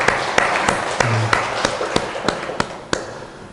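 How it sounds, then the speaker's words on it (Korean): Members of a Korean church congregation at a summer Thanksgiving worship service clap in a steady, even beat, each sharp clap ringing out about three times a second at moderate volume. "큰 박수 한번 해주십시오"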